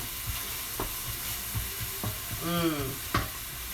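Bay leaves and spices frying in a pan for Indian dahl, a steady low sizzle broken by several sharp stirring clacks, plus a brief tonal squeak in the middle.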